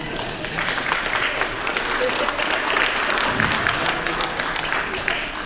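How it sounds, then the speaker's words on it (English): Sustained applause from an awards-show audience, dense and steady throughout with crowd noise mixed in, close and fairly loud. "Yes, yeah, clap for him, for sure."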